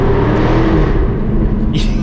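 A 2021 Jaguar F-Type R roars through a tunnel, its exhaust booming and echoing, with a sharp pop near the end; someone talks over the engine noise.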